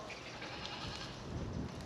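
Sheep bleat at a farm during feeding time, a steady mix of close, overlapping animal calls with no talking.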